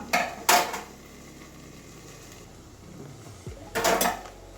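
A lid goes onto a pan of fried okra with a couple of close metallic clanks, then a quiet pause before a second clattering knock of metal on metal.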